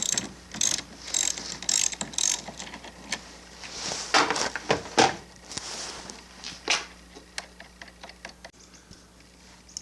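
A 3/8 drive ratchet clicks in quick bursts of close, crisp pawl ticks as it loosens a 10 mm battery terminal on a 2014 Chevy Cruze, with short pauses between strokes and no talking.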